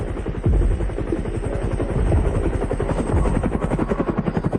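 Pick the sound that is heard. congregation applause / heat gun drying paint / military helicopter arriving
military helicopter arriving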